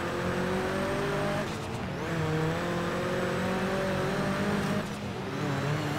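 A Mini races in Forza Horizon 3, its engine revving hard through rising gears with brief dips at each shift, loud and close with a steady whine throughout.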